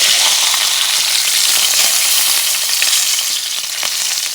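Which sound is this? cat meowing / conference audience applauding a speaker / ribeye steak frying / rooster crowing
ribeye steak frying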